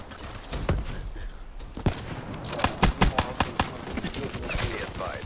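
Gunfire in the Call of Duty Black Ops III video game, sharp shots cracking in irregular bursts that grow thicker toward the middle, with players talking over the shooting.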